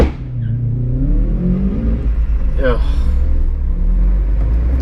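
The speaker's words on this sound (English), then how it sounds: "He's been sat there revving the nuts off that the whole time we were at them lights." A car engine rumbles close by and revs up at traffic lights, a low growling drone that holds steady; a voice briefly murmurs over it.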